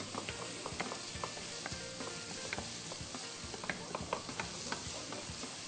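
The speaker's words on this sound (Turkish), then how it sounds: "Onu da şöyle soğanlarımızla beraber güzelce kavurmaya devam ediyoruz" Steady sizzling of onions and garlic sautéing in olive oil in a pan, with scattered clicks and scrapes of stirring, close and continuous.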